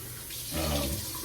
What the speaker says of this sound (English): I'm gonna rinse this tub out now